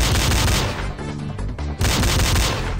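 Dense, loud bursts of gunfire and rocket blasts from the video game Commando 2, a continuous barrage with a brief lull midway before the firing surges back at full intensity.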